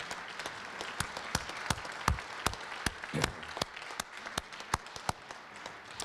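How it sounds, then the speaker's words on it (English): A sparse audience at a university leadership awards ceremony claps, with distinct, separate hand claps sounding at an uneven, spaced rhythm rather than a dense roar, and a few louder claps standing out near the middle. "Let's give him a round of applause for his dedication and commitment to Eastern and our community."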